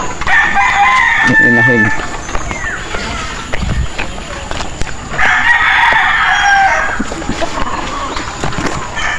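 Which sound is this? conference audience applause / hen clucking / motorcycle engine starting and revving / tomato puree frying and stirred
hen clucking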